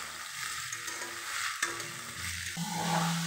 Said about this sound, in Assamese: এইখিনি ফ্ৰাই কৰি নমাই থলোঁ।